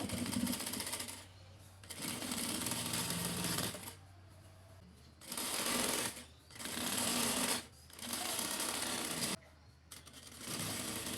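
A sewing machine stitches girls' shorts in bursts of rapid, whirring needle clatter, five runs separated by brief pauses, close and fairly loud, with no talking.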